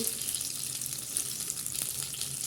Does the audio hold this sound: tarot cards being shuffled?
no